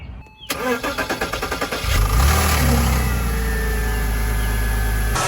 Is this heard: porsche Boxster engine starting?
yes